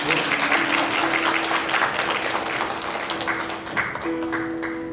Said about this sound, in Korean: 우리 큰 박수로 함께 해주시고